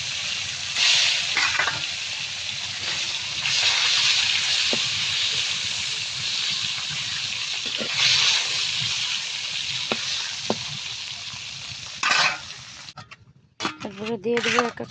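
Taki fish fries in hot oil in a home kitchen, giving a loud, continuous crackling sizzle with occasional sharp pops. A voice speaks briefly near the end over the frying.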